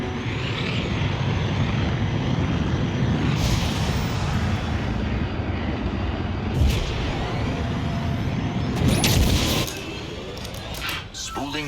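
A spaceship's hyperdrive spools up in the Star Wars Outlaws video game as a heavy, rumbling roar that builds steadily, then cuts to a sharp whoosh and release near the end.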